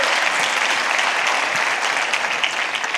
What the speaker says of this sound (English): Y'all give him a round of applause right now, one more time.